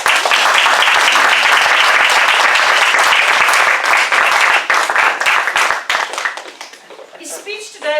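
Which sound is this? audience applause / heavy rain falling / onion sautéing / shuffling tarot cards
audience applause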